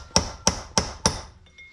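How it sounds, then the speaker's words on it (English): A hammer drives a chisel down onto a wheel bearing race to knock it out of a feeder wagon wheel: four sharp, ringing metallic strikes, evenly spaced and close, with no talking. "that's what you want to get your chisel on and hammer down, and then that'll come out of there"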